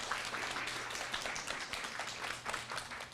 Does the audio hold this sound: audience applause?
yes